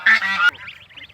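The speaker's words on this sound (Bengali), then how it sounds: "বাড়ির আঙ্গিনা নিয়ে যেতেছি রাজহাঁসের বাচ্চাগুলি" Domestic goose goslings being led across a home courtyard give a short, close burst of nasal honks, followed by quieter chirping calls.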